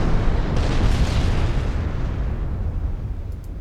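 A loud, rolling blast of explosions as warship gun turrets are knocked out in the naval combat game Ultimate Admiral Dreadnoughts, a dense rumble that slowly fades out.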